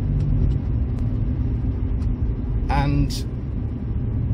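A car drives over the old A33 Winchester bypass, its engine and tyres making a steady low road rumble close up, with someone talking over it.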